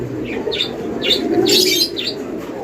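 Pigeons coo softly amid several light chirps, close by at a pigeon market, over a low steady background hum.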